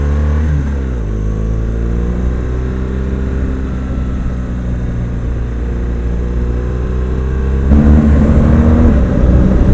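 A motorcycle engine drones steadily on a ride around Exmoor, its pitch dipping early and then holding, before revving a notch louder near the end, with steady wind rush throughout.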